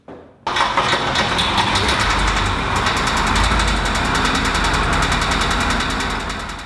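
A fertilizer buggy engine cranks briefly, catches and settles into a steady, loud running idle close by, holding on without pause after start-up.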